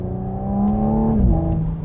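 The V6 engine of a 2021 Audi S5 Sportback revs close by, with a smooth rising pitch that drops back as the revs fall, and no voice over it.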